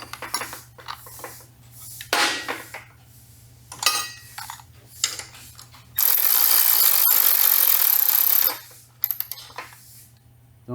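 Shoulder bolts on a Seadoo-powered mini jet boat part are tightened: metallic clinks and scraping of tools, then a steady loud power-tool whir lasting a couple of seconds, close up, with no talk.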